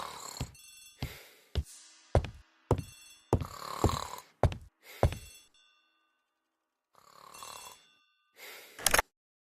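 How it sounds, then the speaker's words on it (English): An old-fashioned telephone bell rings in a hallway, sounding in a series of sharp repeated bursts with short pauses between them and a longer gap before the last two rings, fairly close and alone. "The telephone in the hall is ringing."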